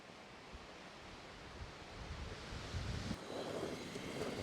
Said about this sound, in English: this wind right now is coming directly from behind us